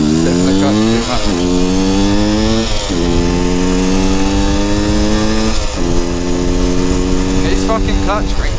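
A road-legal pit bike's single-cylinder engine revs hard and close, pitch climbing in repeated surges with dips as the clutch slips and grabs, loud and continuous throughout.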